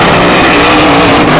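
Grand Prix hydroplane racing boat engines roaring on the water, a brief, very loud, dense and steady blast of engine noise close by.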